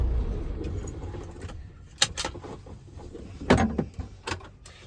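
Keys jingle and clink as the key is pulled from a Freightliner Cascadia truck with an automatic transmission during a vehicle inspection, in several short metallic bursts close by. The cab is otherwise quiet.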